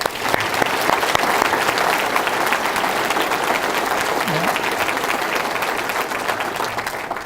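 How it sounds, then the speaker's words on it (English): An audience at a State of the County address breaks into sustained applause, dense steady clapping from a crowd at constant loudness throughout. "please join me and give him a round of applause"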